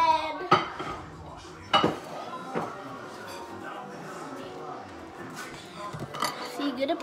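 A plate is picked up and set down among kitchen dishes while deviled eggs are prepared, with a few sharp ceramic clinks and knocks scattered over several seconds.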